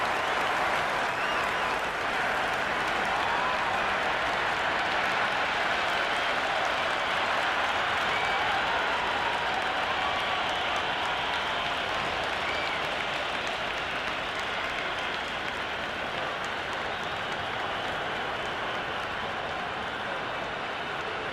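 A stadium crowd in the Cricket 26 game, at a day-night pink ball Ashes Test between Australia and England, cheers and applauds as one steady, dense roar that holds loud and unbroken throughout.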